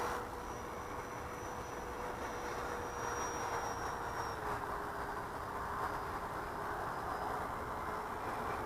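An FMS F-18 RC model jet with full flaps makes a slow pass in front of the field, a steady broadband jet-fan rush with a sustained whine, constant in level throughout, no voices.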